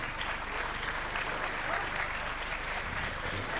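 Steady, dense applause from an audience welcoming a guest onto the stage at a youth discussion event, continuous and even throughout at a moderate distance.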